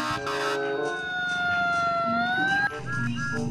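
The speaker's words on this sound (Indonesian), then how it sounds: "yang ini ada mobil pemadam kebakaran" A toy fire engine gives off an electronic siren, a steady wavering tone that slides gradually lower and then cuts off, sounding close and loud over a busy toy-like background.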